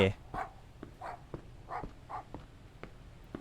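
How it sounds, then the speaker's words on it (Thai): A dog barks repeatedly in the Thai horror video game The Apartment, a series of sharp, evenly spaced woofs at moderate distance. "หมาก็ เห่า"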